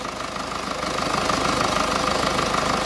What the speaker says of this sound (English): I'm just going to leave the engine running because I want to stick a manometer on it.